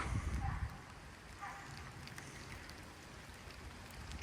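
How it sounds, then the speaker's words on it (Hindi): Rain beginning to fall in Rock Springs Park, Lawrenceville, Georgia: a faint, even patter of drops with soft outdoor ambience, steady and distant throughout. "और बारिश शुरू"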